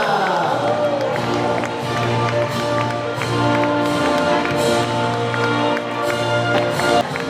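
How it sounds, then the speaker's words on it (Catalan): Audience applause and cheering fill a stadium during a school mini-Olympics opening ceremony, a dense, loud crowd sound with scattered claps and music-like tones running throughout. "un aplaudiment per a Papua Nova Guinea"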